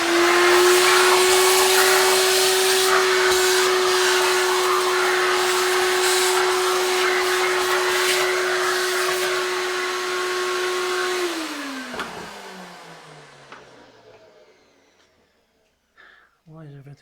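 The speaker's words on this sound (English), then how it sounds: "I'll just have a quick hoover up" A vacuum cleaner runs loudly and close with a steady droning whine, then switches off and winds down, leaving quiet handling noises.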